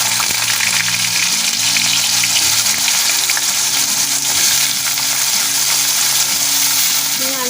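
Ridge gourd and potato pieces fry in salted hot oil for a vegetarian dish, giving a loud, dense, continuous sizzle close by with occasional stirring scrapes.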